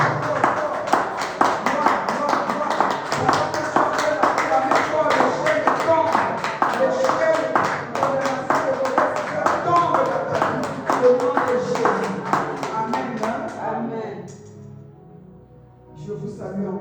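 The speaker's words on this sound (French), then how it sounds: "C'est pourquoi acclame-lui encore très très fort." A church congregation claps rhythmically and cheers in praise of Jesus, a fast, steady run of loud handclaps with voices mixed in, fading out near the end.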